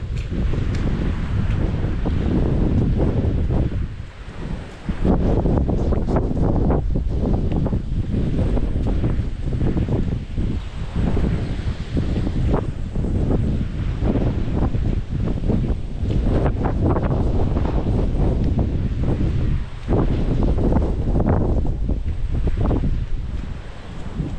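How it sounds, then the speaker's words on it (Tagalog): Strong typhoon wind battering bitter gourd plants on a farm, a loud continuous roar buffeting the microphone in gusts with brief lulls. "Binabayo ng malakas na hangin yung ampalayo."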